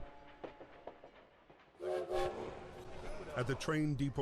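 A train sits at a Paris railway station in the World War I game Valiant Hearts: The Great War, with a rumbling bed and loud whistle blasts rising after a quieter opening, while a voice speaks over it.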